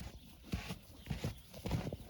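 Novooleksandrivsk draft horses in a stable, a few heavy hoof thuds on a hard floor at close range, spaced unevenly amid quiet shuffling.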